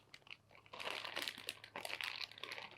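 A 15-ounce bag of thawed frozen cut okra being emptied into a gumbo pot, close plastic crinkling and rustling with soft thuds as the pieces tumble out, brief and without any talking.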